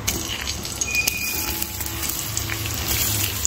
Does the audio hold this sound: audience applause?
no